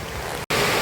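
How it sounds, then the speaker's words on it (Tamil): Heavy rain pouring in Kanyakumari district: a dense, loud, even hiss of downpour, broken by one very brief cut before it resumes just as strongly. "எங்க கன்னியாகுமரி மாவட்டம் வேற லெவல் மழை தெரியுதா? தகர்க்குது மழை."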